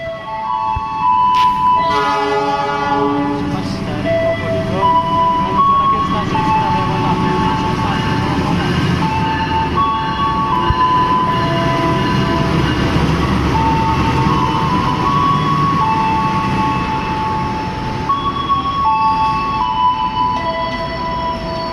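A Jenggala Commuter Line train bound for Surabaya Gubeng station, Indonesia, rumbles along steadily with squealing, tonal wheel and horn-like sounds layered over a continuous mechanical roar; voices are faintly present.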